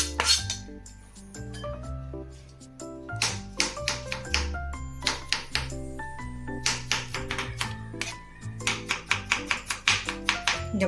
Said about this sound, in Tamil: அதே மாதிரியே வந்து காலிஃப்ளவரையும் சின்னதாக அந்த ஸ்டெம்மோட சேர்த்து சின்னதாக கட் பண்ணி எடுத்துக்கலாம்